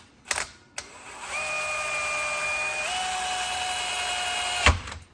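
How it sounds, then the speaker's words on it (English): A drill fitted with a hole saw, cutting a hole for a bike rail wheel, spins up with a steady whine that rises in pitch partway through, close and alone, before stopping with a clunk. "now I'm gonna start drilling a hole, center my saw, decently centered."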